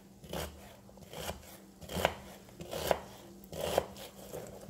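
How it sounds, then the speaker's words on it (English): A knife chops an onion on a cutting board for homemade dressing, giving quiet, irregular thuds spaced roughly a second apart with a faint scraping between strikes. "Alright, I'm going to cut up my onion."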